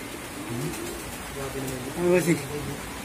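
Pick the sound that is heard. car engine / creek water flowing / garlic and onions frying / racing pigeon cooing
racing pigeon cooing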